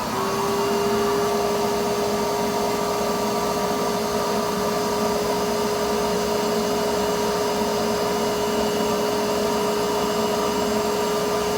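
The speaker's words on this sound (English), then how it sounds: "turn on your vacuum" A vacuum cleaner powers a homemade vacuum forming machine, a loud, steady motor whine with a constant high pitched tone that runs unbroken throughout, with no voices over it.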